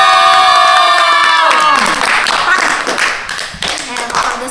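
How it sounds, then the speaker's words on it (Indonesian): A group of children at a Sunday school service clap their hands together, first in a burst of rapid clapping that breaks into scattered claps, with cheering and voices mixed in at close range. "Coba tepuk-tepuk dulu"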